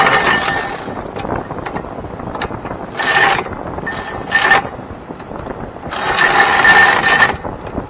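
A ratchet wrench loosens a rear brake bolt on a Chevy Traverse, giving several close bursts of rapid metallic clicking separated by short pauses.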